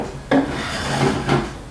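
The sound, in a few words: kitchen table drawer sliding into place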